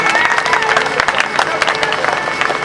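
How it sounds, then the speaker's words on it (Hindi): An audience at a Birha folk music stage performance in Chunar claps and cheers continuously, a dense crowd applause with scattered sharper claps and a murmur of voices throughout. "एक बार ताली बजेगी शाही मारी के नाम पर"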